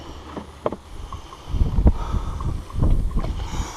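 Gusty wind buffets the microphone with low rumbling bursts that swell and ease, strongest in the second half, with no voices, during a beehive inspection.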